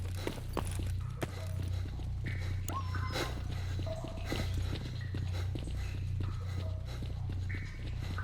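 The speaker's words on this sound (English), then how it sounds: "it's a mixture of dogs, by the looks of it" Dogs in the video game Stalker Narodnaya Solyanka snarl and yelp amid rapid padding paws and scuffling, over a constant low ambient rumble, with sharp clicks and thuds scattered throughout.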